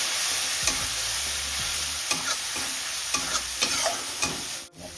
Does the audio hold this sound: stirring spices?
yes